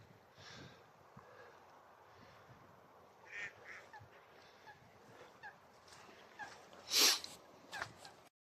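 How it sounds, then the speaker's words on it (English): Mallards, pintails and shoveler ducks at Rainham Marshes call over a soft outdoor background, with scattered faint quacks and one louder, nearer call near the end. "Loads of mallards, pintails, a couple of pintail there,"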